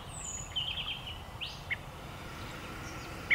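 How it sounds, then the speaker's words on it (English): Redwing thrushes fly over a frosty winter garden giving thin, high, drawn-out calls. A few faint notes come and go over a low, steady background hum, with one brief sharper note close to the end. "At the moment, loads of redwing going overhead."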